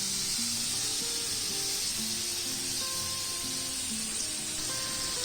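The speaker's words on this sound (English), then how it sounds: "the prawns are wonderfully sizzling at the base" Prawns sear in a hot tawa, giving a dense, continuous sizzle and hiss close up, with no talking.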